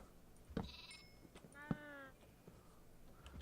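Sheep bleat in the blocky sandbox video game Minecraft, with a short wavering bleat followed by a second, clearer one over faint background noise.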